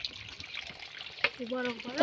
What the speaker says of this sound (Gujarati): પાણી ભરે છે અંદર